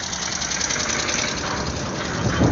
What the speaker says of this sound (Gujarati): આમ ટ્રેક્ટર આવે છે.